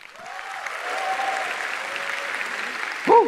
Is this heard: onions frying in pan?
no